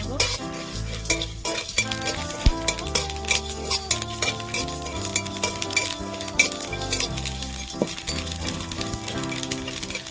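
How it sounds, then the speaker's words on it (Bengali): Whole cumin, coriander and fennel seeds fry and get stirred in a pan, with steady sizzling and repeated scraping and clinking of a spatula against metal, close and alone. "এখানে জিরে ধনে মৌরি আছে দিয়ে দিলাম এর সাথে আমি ভালো করে ভেজে"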